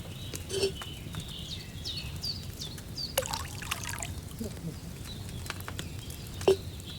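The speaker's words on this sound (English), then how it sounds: "Don't worry, I poured wine in there." Wine trickles softly into a cauldron in Kingdom Come: Deliverance II, a thin, steady pour with faint splashes and clicks over a low ambient background.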